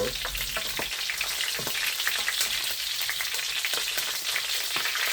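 Pork bistek fries in plenty of oil, a steady, loud, dense sizzle with crackling pops throughout and no talking.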